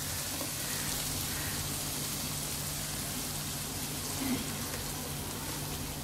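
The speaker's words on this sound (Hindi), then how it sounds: "स्लो फ्लेम पे ही भूनेंगे इसे।" Chicken sizzles steadily in a pan over a slow flame for a Thai-style crispy chicken, a constant soft hiss and crackle with a low hum beneath and no talking.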